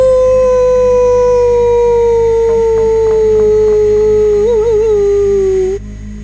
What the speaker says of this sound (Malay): Tiba-tiba anjing menjalak panjang, macam nampak sesuatu.